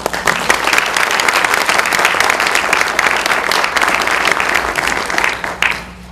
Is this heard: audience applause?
yes